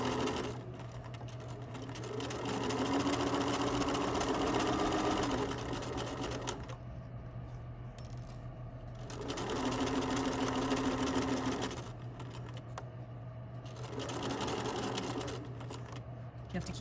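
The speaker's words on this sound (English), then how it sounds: "now we're going to begin sewing" A sewing machine stitching a skirt facing in three long rhythmic runs separated by short pauses, steady mechanical whirring close up, with a constant low hum underneath.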